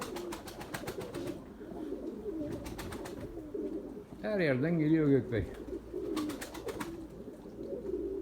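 A pigeon coos loudly and close in a rolling burst amid a loft of pigeons, with someone talking before and after and softer cooing and bird sounds behind.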